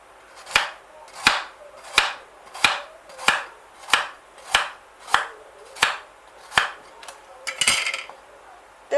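Sharp knife chopping carrots on a cutting board, about a dozen evenly spaced crisp thuds at a steady rhythm, close and clear, ending in a quicker flurry of cuts.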